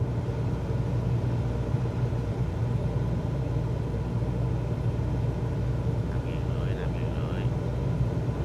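A small aircraft engine drones evenly in Microsoft Flight Simulator 2024 during a descent, a steady low rumble held throughout, with a voice speaking over it.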